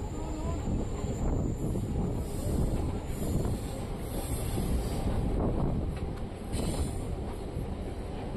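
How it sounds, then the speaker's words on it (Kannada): A DEMU train rolls into Mariyammanahalli railway station, its continuous rumble and rattling wagons heard close from on board, loud and steady with wind noise buffeting throughout. "ನಮ್ಮ ಟ್ರೈನ್ ಈಗ ಮರಿಯಮ್ಮನಹಳ್ಳಿ ರೈಲ್ವೆ ಸ್ಟೇಷನ್ಗೆ ಎಂಟ್ರಿ ಆಗ್ತಿದೆ"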